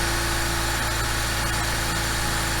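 A car with a swapped-in Honda K-series engine idles loud and close, a steady rumbling drone with a constant even tone and no talking.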